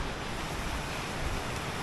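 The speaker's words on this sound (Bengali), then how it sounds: "সাথে নদীর গর্জন" A mountain river on the Annapurna trek roars as a constant broad rush of water, loud and unbroken with no voices.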